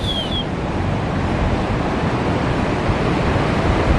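Ocean waves surge around a small boat in rough seas, a continuous loud wash of surf mixed with heavy wind buffeting, with no voices.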